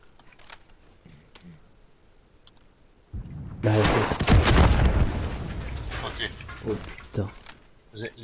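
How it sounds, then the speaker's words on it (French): A rocket explodes in Call of Duty Warzone with a sudden heavy boom and a sustained rumble of debris lasting a couple of seconds, with quieter game noise before and after. "ils nous ont balancé une roquette"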